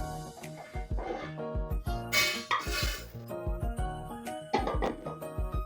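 Roasted lentils tipped from a hot pan onto a plate, close metallic scrapes and clinks with brief rattling pours in bursts, no voices.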